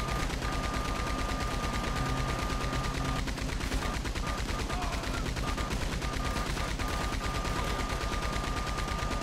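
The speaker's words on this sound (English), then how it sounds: "We got the machine gun." Rapid machine gun fire rattles continuously in Red Dead Redemption 2 Online, dense overlapping bursts amid other gunshots at steady loud level, with faint speech underneath.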